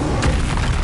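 The Incendio fire spell in Hogwarts Legacy lets out a loud, booming whoosh of flame. The roar is dense and fills the whole short moment.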